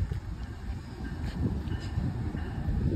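A MARC commuter train running as a sandwich set passes with a steady low rumble and rolling rail noise, holding even and continuous throughout, with a faint high whine over it.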